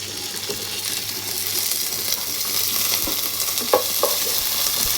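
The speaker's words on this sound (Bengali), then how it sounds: "এখানে আমার পেঁয়াজ ভাজা হয়ে গেছে এখন আমি এখানে আদা পেস্ট দিয়ে দিব" Ginger paste frying in a pan with chopped onion, garlic and green chilli, a steady broadband sizzle with occasional stirring scrapes and small clinks, close and continuous with no talk.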